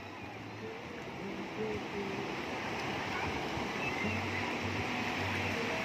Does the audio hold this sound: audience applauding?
no